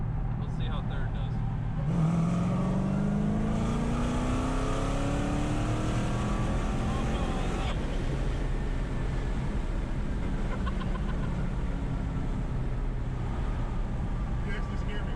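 A 1000 hp Dodge Challenger Hellcat in third gear roars as it accelerates hard, the engine note climbing steadily for several seconds, then the throttle is released and it settles to a lower drone, with people talking inside the car.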